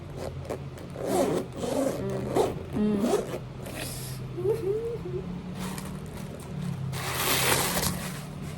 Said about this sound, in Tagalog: Zipper check. Tignan yung zipper niya.